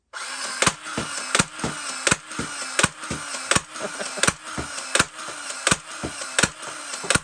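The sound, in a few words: Nerf LMTD Halo Needler toy blaster firing darts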